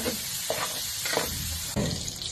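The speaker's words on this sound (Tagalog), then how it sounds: "Ayan, tubig." Tap water pours into a kitchen sink during cooking, a soft, continuous hiss with a few brief clatters and splashes mixed in, fairly quiet throughout.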